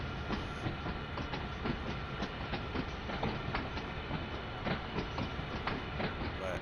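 A long freight train in Train Sim World 5, with SD40 and AC44 locomotives, rolls steadily at Cresson Yard, giving a continuous rumble with repeated clickety-clack wheel beats throughout, at moderate level with no voices.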